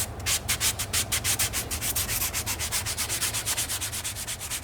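Alcantara upholstery on a matte-finish BMW F10 M5 is sanded by hand in quick, even back-and-forth strokes, each a rhythmic scratchy rub, close and steady with no talking.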